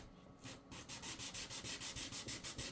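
Sandpaper rubs by hand over a titanium piece in a steady back-and-forth rhythm, about a dozen even strokes, close and fairly quiet with no talk.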